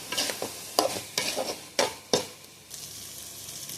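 Food sautéing in hot oil in a pan, a spoon stirring it in repeated scraping strokes over a steady bright sizzle, close and fairly loud, with no voices.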